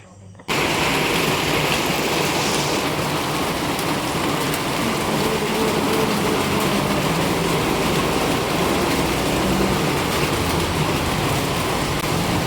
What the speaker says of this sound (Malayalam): കുറച്ച് മഴ പെയ്യുന്നുണ്ട്, അത് കാണാം നമുക്ക്.